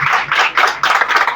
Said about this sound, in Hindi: मिलके तालियां जलाल के लिए